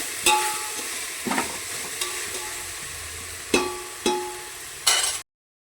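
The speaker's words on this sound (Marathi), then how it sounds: "परतून घेते." Ground chilli paste sizzles in oil in a pan for village-style mutton biryani, a steady frying hiss broken by several sharp clinks and scrapes of a stirring spoon against the pan, close, ending in sudden silence.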